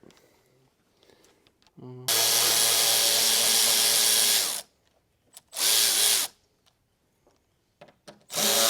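A power driver fitted with a 4 mm Allen socket whirs loudly while removing windshield guard bolts from a Honda Element camper top, one long run followed by two shorter bursts, with brief talk between them.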